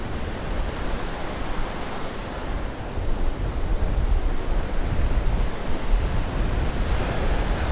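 Ocean waves break steadily on the beach at Ocean City, Maryland, a loud, continuous wash of surf with wind buffeting the microphone, no voices.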